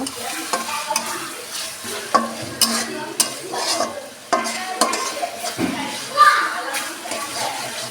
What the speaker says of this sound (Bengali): চিকেনগুলোকে আমি আগে থেকে মশলা দিয়ে মেখে রেখেছিলাম আর পেঁয়াজ ভেজে এর মধ্যে আমি এখন দিয়ে দিচ্ছি